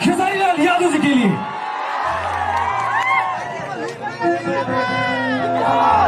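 An audience at a live stage show for a singer roars and cheers in a dense, continuous crowd wash, with whoops and chatter and a voice over a loudspeaker mixed in.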